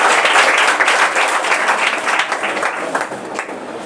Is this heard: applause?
yes